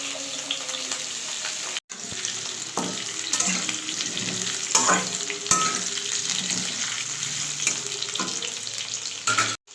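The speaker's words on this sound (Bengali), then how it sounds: "আলু ভাজা চলছে বন্ধুরা।" New potatoes frying in a pan for a vegetarian aloo dum, a steady close sizzle running unbroken for nearly ten seconds with a brief cut near the start and occasional stirring clatter.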